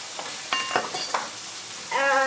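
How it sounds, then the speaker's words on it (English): Lasagne filling is stirred in a frying pan, a soft continuous sizzle with a few scraping and clinking touches of the utensil, fairly quiet and close. "pick that up and stir that into the pan"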